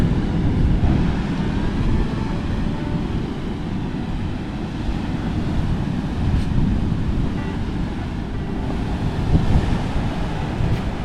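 Ocean surf rolls onto a driftwood-strewn beach at Nawiliwili, Kauai, a steady broad roar of breaking waves mixed with wind buffeting the microphone, continuous and fairly loud with no voices.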